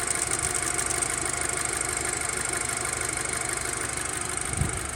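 A VW Passat running on a freshly swapped engine idles smoothly and steadily, a continuous close, even hum without shaking or revving.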